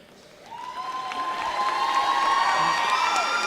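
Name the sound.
graduation ceremony crowd cheering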